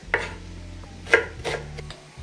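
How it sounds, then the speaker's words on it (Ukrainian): Several sharp knife chops through an onion on a cutting board, spaced irregularly, close and fairly loud over a steady low background hum. "Ти вже цибульку другий раз ріжеш."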